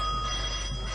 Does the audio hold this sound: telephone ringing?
yes